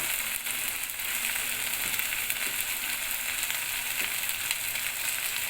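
Poppy seed and cashew paste being stirred into a frying rohu and katla fish curry, a steady close sizzle of hot oil running unbroken with light stirring scrapes.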